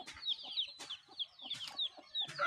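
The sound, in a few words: country chickens clucking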